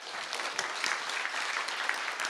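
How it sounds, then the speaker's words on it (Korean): An indoor audience claps at a political rally in a conference hall at the Baekbeom Kim Koo Memorial, with brisk, steady applause from many hands holding at an even level throughout. "더 크게 박수 부탁드리겠습니다"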